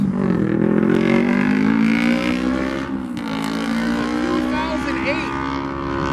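A 2008 Harley-Davidson Street Glide FLHX motorcycle rumbles loudly nearby with a steady low engine drone that shifts and slightly fades as it rides off, a voice talking over it.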